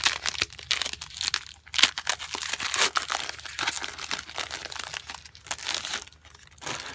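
Foil wrapper of a Transformers TCG Rise of the Combiners booster pack crinkling and tearing open close up, a steady busy rustle with brief pauses, no talking.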